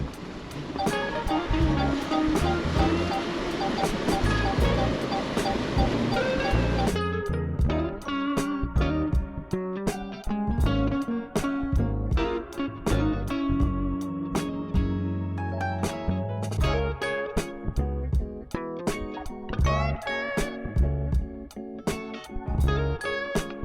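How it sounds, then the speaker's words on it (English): Water churns and sloshes as an off-road overlanding vehicle drives through a creek crossing near Hanksville, Utah. A loud surging wash comes first, then a long stretch of splashing and dripping with clicks and knocks. "this is what we have to do: water crossing."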